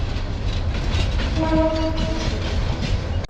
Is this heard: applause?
no